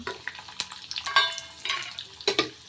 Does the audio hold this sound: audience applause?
no